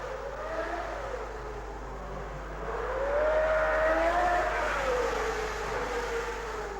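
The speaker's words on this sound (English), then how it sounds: "Joe Bonnier came in to complain that his revs were going sky high" A 1963 Formula 1 racing car engine at the Monaco Grand Prix whines and revs, pitch rising and falling as it climbs higher mid-way, steady and fairly close with no talk.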